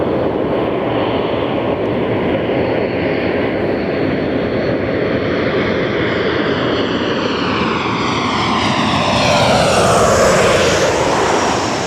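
A fixed-wing airliner on final approach to runway 24 left at Los Angeles International Airport roars loud and close, its broadband engine rumble swelling and shifting in pitch as it passes, with no voices.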